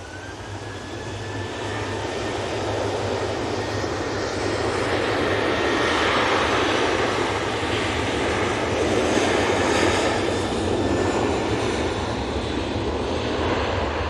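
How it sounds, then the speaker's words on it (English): A Jet2 Boeing 737-800 roars through its takeoff run at an airport, a loud, sustained broadband engine rumble that holds steady and swells slightly for about fourteen seconds, with no voices. "Jet2 737-800 off to Santorini now."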